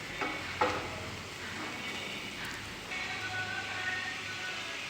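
Potato, tomato, green chilli, ginger, garlic, carrot and onion are stirred and sautéed in a pan for a prawn vegetable curry, with a soft sizzle, a few scraping knocks early on, close and quiet.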